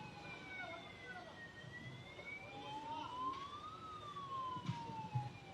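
A wailing ambulance siren rises and falls at a distance, heard over traffic rumble and a voice calling out nearby.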